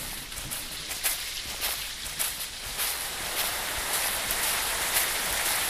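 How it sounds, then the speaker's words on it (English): Continuous hiss of falling rain in the forest in the video game Pipe Head, with scattered soft patters, even and moderately loud, no voices. "It's raining again."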